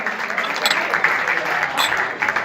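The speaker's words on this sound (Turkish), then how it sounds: "Bir alkış rica ediyorum sizden" An audience applauds in a dense, continuous wash of clapping at moderate volume, steady throughout with a few brighter accents, heard at some distance in a hall.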